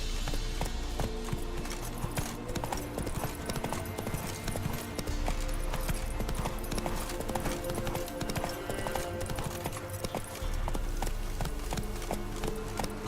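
Roach, a horse in the video game The Witcher 3, gallops in a steady, rapid clip-clop of hooves that runs continuously and loudly, with light game ambience beneath.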